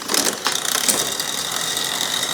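Mechanical clicking and ratcheting of bicycle gears shifting to the middle chainring while pedaling, amid a whirring drivetrain, close and fairly loud, no voices.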